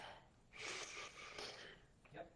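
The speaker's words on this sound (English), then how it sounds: "Let's just take a nice deep breath." A slow, deep breath drawn in and released in a quiet room, soft and airy, with a faint second breath just after, close to the mic and not under any talk.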